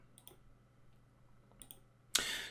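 Two soft, quick computer mouse clicks on an OK button in Windows Server 2019, close and quiet in a near-silent room, followed by a brief burst of noise.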